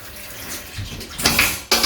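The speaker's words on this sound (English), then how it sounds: "So aim the shower head at the wall." A hotel shower head sprays water against a wall, first a low murmur and then a loud, close hiss that cuts out briefly and bursts back on.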